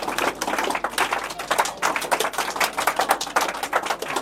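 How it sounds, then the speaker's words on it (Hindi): A classroom of students claps loudly and steadily for a classmate, a dense, continuous patter of many hands filling the room. "मारो ताली जोरदार"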